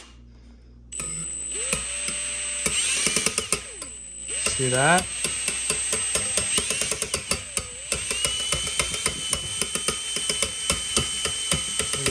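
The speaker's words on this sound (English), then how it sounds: "So now we got the drill on high." Cream being whipped with a power drill running on high, a steady whirring motor with rattling clicks and knocks of the mixer against the bowl, close and loud, with a person speaking briefly over it.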